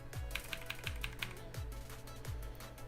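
Keys clack on a new computer keyboard in quick irregular bursts, a close, crisp series of taps with occasional heavier thuds and no voice over them.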